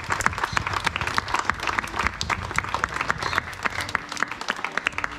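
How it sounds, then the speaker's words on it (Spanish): An audience at a community event gives a dense, sustained round of applause, with many hands clapping close by and little talk beneath it. "Démosle un fuerte aplauso a nuestro Dios."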